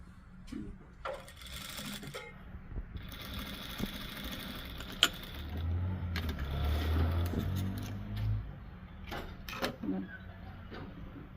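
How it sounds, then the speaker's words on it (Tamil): A sewing machine stitches clothes in a home tailoring setting, with rapid mechanical whirring that comes and goes in short runs, separated by clicks and handling noises. The sound is moderately quiet. "நாங்கள் வந்து கை தைப்போம்"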